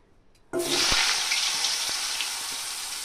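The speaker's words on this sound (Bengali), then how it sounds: "আমি হাই হিটে আলুগুলোকে 2 থেকে 3 মিনিটের মতন একটু ভেজে নেব।" Potatoes hit hot oil in a pan on high heat and burst into a loud, sudden hiss that keeps on as a steady, dense sizzle, with a few faint clinks under it.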